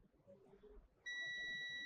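A multimeter on continuity test mode gives a sudden, steady high-pitched beep that starts after a quiet stretch and holds to the end.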